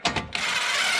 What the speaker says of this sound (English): I'm just going to take an impact, seat it